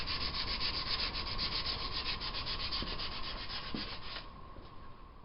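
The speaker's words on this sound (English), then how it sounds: "I sanded it down to about a 400 grit" Steady, continuous sanding of a steel fillet knife blade made from an old saw blade, a close rasping hiss with rhythmic strokes that thins out and softens near the end.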